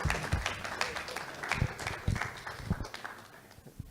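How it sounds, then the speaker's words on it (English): An audience at a Barbados GDPR forum applauds, scattered claps in an uneven, thinning patter that fades toward the end. "Give the man another clap, man,"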